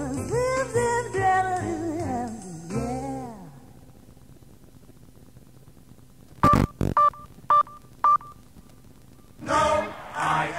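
Short beeping tones from an answering machine, several separate beeps near the middle, set between a sung outgoing greeting before and more voice after.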